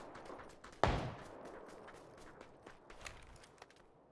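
Gunfire in an online shooter video game: one loud close shot burst followed by quieter distant pops and scattered footstep-like taps, no talking.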